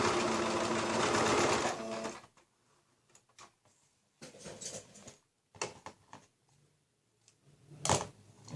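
A sewing machine stitching a patchwork piece runs in a loud continuous burst for about two seconds, then gives way to short clicks, taps and brief stuttering runs as the fabric is shifted and backstitched.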